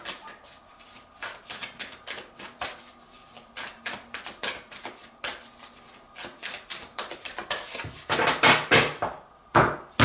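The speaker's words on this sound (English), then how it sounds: "we're gonna shuffle 4 times" A tarot card deck is shuffled by hand in a run of rapid papery riffles and taps, close and fairly loud, growing busier toward the end.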